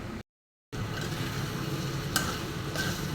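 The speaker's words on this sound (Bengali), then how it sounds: "পুর ভেজে নিচ্ছি।" Steady hiss of egg chop filling frying in a pan in a home kitchen while iftar snacks are prepared, briefly cut to silence near the start, then a continuous close sizzle with a couple of faint clinks.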